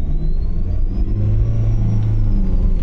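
A Mahindra Scorpio SUV, at 40,000 km after service, accelerating while driving, with a loud, steady low engine drone and a rising whine, heard from inside with no talk.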